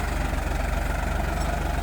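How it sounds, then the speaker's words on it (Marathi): A Farmtrac 45 HP tractor fitted with a three-bottom hydraulic mouldboard plough idles nearby, its engine throbbing in a steady, low, rapid knock without pause. "ट्रॅक्टर आहे फार्माटॅक कंपनीचा 45 HP."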